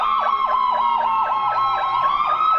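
Emergency vehicle sirens wail loud and close in a rapid, repeating yelp pattern, steady and unbroken with no talk over them.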